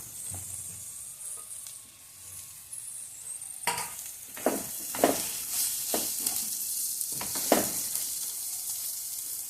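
Stuffed okra fries on low heat in a pan: a soft sizzle at first, then louder bursts of hissing and stirring scrapes from the middle onward, close and without talk.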